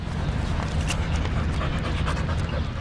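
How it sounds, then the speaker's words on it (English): A dog pants rapidly and steadily on a morning walk in a city park, close and loud over a low rumble of outdoor background noise. "downtown resident Caitlin Laurie is walking her dog Lucy."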